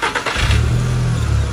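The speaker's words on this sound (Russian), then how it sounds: "Запуск двигателя." A 2009 Skoda Octavia with a 1.6-litre BSE petrol engine cranks briefly, then catches and settles into a steady, loud running note close by, with no talk.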